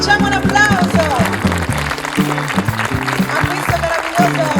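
An audience at a beauty pageant final in a villa gives applause, mixed with loud music and a voice carrying over it.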